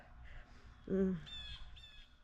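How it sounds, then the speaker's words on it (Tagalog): A single loud crow caw stands out nearby, followed by fainter, higher bird calls in the background. "Yung huni ng mga ibon ba."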